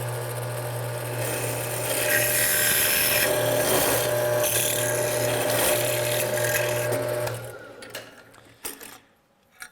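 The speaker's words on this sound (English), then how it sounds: "Let's drill the second hole." A power drill bores a hole through an aluminum piece, a steady loud whirring grind with a constant low motor tone that holds for several seconds, then winds down and cuts off with a few clunks.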